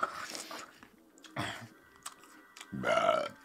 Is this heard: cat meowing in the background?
no